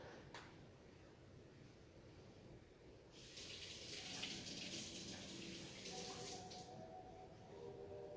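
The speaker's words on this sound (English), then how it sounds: "I'm gonna give it a rinse because there's little like onion root strings stuck to it" Running tap water pours steadily over a peeled onion in a kitchen sink during latke preparation, a broad hiss that swells louder midway while the onion is rinsed, then drops back to quiet room noise.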